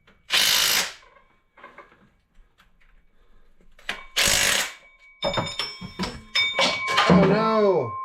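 Bolts on a Chevy Silverado water pump are driven with a power tool in two short loud bursts, followed by clanking tool noises and speech-like voices near the end.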